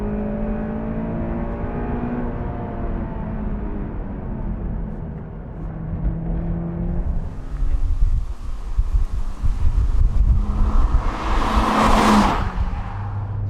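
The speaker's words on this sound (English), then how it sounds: "You got a lot of tyre roar and a bit of wind roar" Steady road roar from tyres with rushing wind inside a moving Honda S2000 convertible, engine hum underneath and a voice talking throughout, swelling louder toward the end.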